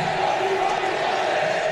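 Recorded football crowd noise played over the loudspeakers of an empty stadium before a Pernambucano 2020 match between Sport and Santa Cruz, a dense, steady roar of massed voices with no break.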